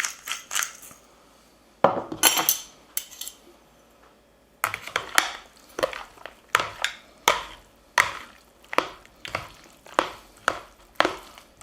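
Egg yolks, salt and pepper are worked into a squid stuffing in a bowl: a series of close, sharp scraping and slapping strokes in an irregular rhythm, with a short pause partway through, no talking.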